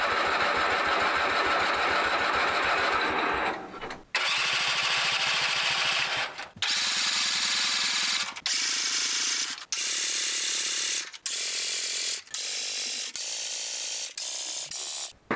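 A Gravely rear-engine tractor with a Kohler engine cranks but fails to start. There is a long, loud grinding crank, then a series of repeated bursts that grow shorter, each cut off by brief silence, and the engine never catches.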